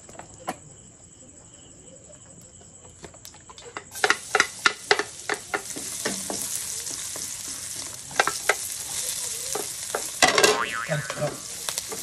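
Food frying in hot cooking oil for spicy squid in coconut milk, with a steady sizzle that jumps louder partway through as ingredients go in, plus close clattering stirring strokes against the pan.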